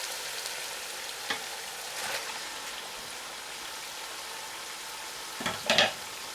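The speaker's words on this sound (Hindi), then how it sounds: "अब आपने यहाँ पर अपना चिकन ऐड करना है," Chicken pieces fry in hot oil with onion and spices for chicken korma, producing a gentle, continuous sizzle. A few louder bursts of crackle and stirring come in, with the loudest near the end.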